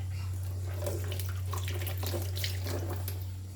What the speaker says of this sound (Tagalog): At hugasan natin muna itong ating sili.